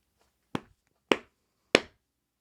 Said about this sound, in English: clapping with gloves on does sound very neat